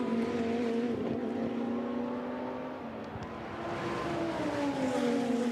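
GT2 race cars, including the number 44 Lamborghini, power out of corners at Monza. Several engines rise and fall in pitch as they accelerate and pass, a continuous loud overlapping roar with no talk.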